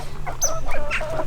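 Hens in a pen cluck and cackle at close range, giving a quick series of busy, overlapping calls that keep going steadily over a short stretch.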